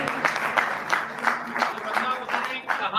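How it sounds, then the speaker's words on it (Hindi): At a startup and small-business conclave and awards event, a crowd claps for someone's entrance; the clapping is moderate and rhythmic, with voices or a tonal sound running underneath the clapping throughout. "प्रवेश के लिए जोरदार तालियां बजाएं।"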